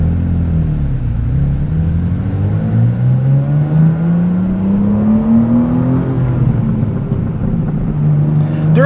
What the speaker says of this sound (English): with those exhaust valves open, it sounds a heck of a lot better when you accelerate